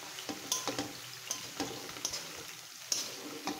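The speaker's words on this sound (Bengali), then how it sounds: "ততক্ষণ আমি একটু শাকটা নেড়ে দিই" Red amaranth greens stirred in a pan, with scattered soft scrapes and light clinks over a faint background sizzle, fairly quiet and uneven.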